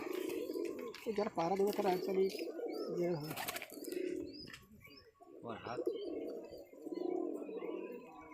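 Foreign-breed pigeons at a home loft coo in low, repeated throaty bursts close by, with chirps and a brief wing flutter, while people talk throughout.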